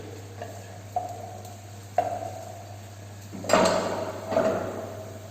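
Onions frying and browning in a pan, a soft steady sizzle punctuated by several sharp stirring scrapes and clinks of a utensil, the last few louder and longer, over a constant low hum.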